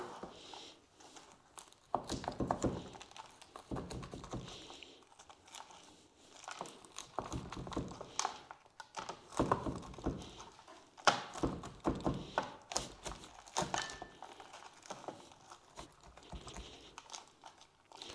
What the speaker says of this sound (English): So let's chop those apples quickly.